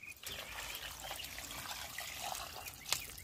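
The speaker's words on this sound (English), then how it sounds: "now add the water to it" Water poured into a cooking pot for a Jamaican cow foot dish, a soft continuous trickling splash with a brief louder clink near the end, faint and close.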